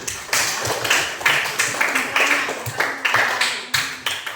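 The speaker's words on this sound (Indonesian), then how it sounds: "tepuk tangan untuk Desi." A classroom group claps in a steady, rhythmic beat, each clap sharp and close, repeating evenly for a few seconds with no talk over it.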